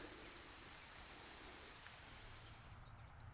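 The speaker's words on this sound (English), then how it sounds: "I got to get out of this rain." Steady rain falls outdoors as a soft, even hiss of drops, faint and unbroken throughout.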